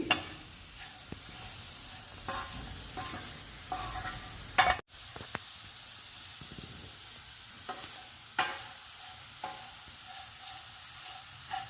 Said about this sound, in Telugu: కారము బీట్రూట్ 2-3 నిమిషాలు ఫ్రై అవ్వాలి